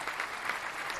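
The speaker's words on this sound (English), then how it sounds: "Your round of applause." A brief, faint patter of applause, a steady wash of clapping heard from a distance for about a second.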